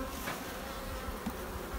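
Honeybees at a beekeeper's hive give off a steady, close buzzing drone, continuous and moderately loud, with no voices.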